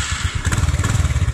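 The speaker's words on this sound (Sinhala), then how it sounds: "දැන් අපි bike එක start කරනවා." A TVS Ntorq 125 scooter engine starts and runs with a close, loud, rapid pulsing putter that stays steady through the brief moment.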